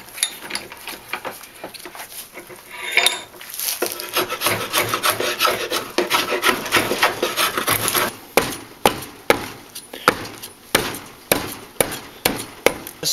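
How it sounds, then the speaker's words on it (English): A draw knife shaving a hand-carved maple wooden bowl, first a longer rasping scrape, then a run of short, sharp, rhythmic strokes close up. "start working it down with my draw knife"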